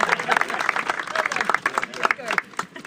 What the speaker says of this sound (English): You may applaud if you feel like it.